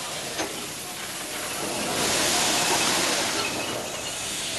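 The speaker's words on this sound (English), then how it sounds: "The steam locomotive looks fascinating, it sounds fascinating." A steam locomotive running on an Indian railway, a broad continuous hiss and rushing roar of steam that swells louder midway and then eases slightly, with one sharp knock near the start.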